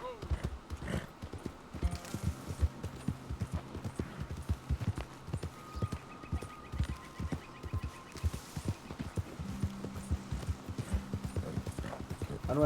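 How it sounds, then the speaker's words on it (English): Horse hooves clip-clopping in Red Dead Redemption 2, a steady rhythmic trot of sharp hoof strikes throughout, with a brief whinny and faint birdsong in the game world behind. "I managed to find the worst ways to fucking ride this horse"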